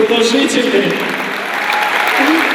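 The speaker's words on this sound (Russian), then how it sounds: "Это были аплодисменты золотому спортсмену Хасану Калмурзаеву." An audience at an awards ceremony in Nazran claps loudly for Olympic champion Khasan Kalmurzaev, a sustained wash of applause with a voice speaking over it early on.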